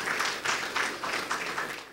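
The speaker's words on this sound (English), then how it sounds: "Please a round of applause for Honorable Boma Iyaye, EDFA." Applause from an audience at a youth internship scheme launch, a dense even wash of clapping at moderate level, no talk over it.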